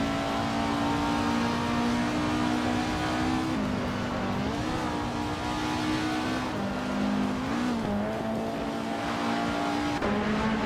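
A 1961 Alfa Romeo Giulietta race car in a racing video game drives at a steady, continuous engine drone that rises and dips slightly with gear changes and throttle. It is close and loud throughout, with no talk over it.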